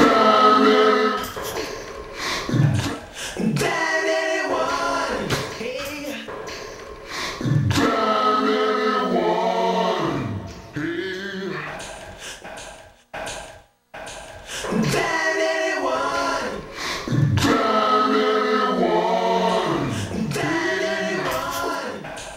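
Video game soundtrack played back at triple speed, a dense, busy musical passage in repeating loud phrases with a brief near-silent break midway, no talk.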